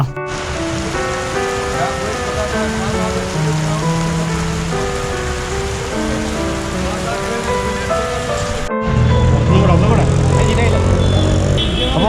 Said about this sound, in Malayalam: കണ്ടോ മണാലി ടൗണിൽ അതിശക്തമായിട്ടുള്ള മഴ